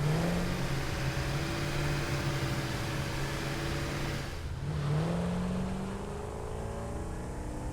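A vehicle drives in the video game Satisfactory, its steady engine drone rising and falling in pitch as it accelerates, a continuous close motor hum with a brief dip midway before revving up again.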